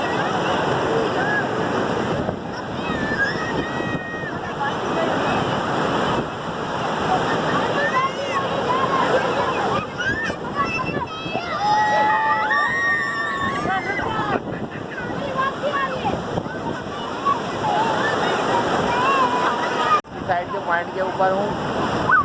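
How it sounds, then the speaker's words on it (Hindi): Sea waves surge and crash at Hawks Bay beach in Karachi, a continuous rushing wash of surf with gusts of wind buffeting the microphone as people talk nearby. "माशाल्लाह देखिए पानी की लहर का देखें, इतनी ज़्यादा तेज़ प्रेशर से पानी आ रहा है।"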